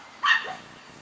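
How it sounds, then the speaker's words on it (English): A single sharp dog bark in a backyard pumpkin patch, fairly close and moderately loud, then quiet. "sorry about the dogs."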